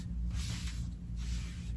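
Aerosol spray adhesive hisses in two bursts while a quilt is basted on a wall, each spray a steady close airy hiss over a low background hum.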